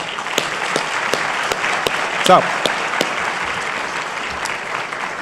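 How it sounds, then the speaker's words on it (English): Audience applause at a diplomatic conference session in a hotel, a steady broadband patter of many hands clapping that holds evenly throughout, with a faint voice briefly audible over it near the middle. "They deserve a round of applause."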